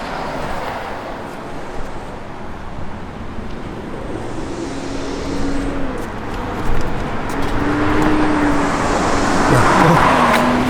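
A 1966 Chevrolet Corvette cruises along a road, a steady broadband rumble of engine, tyres and wind that swells gradually toward the end.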